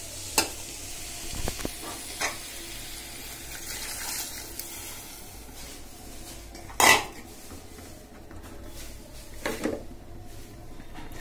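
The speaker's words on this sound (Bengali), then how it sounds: "সব কিছু একটু তেলে ভেজে নিলাম।" Dried fish, taro, tomato, onion and garlic frying in oil in a pan, a soft continuous sizzle broken by metal spoon clinks and scraping against the pot, with one sharper clatter midway.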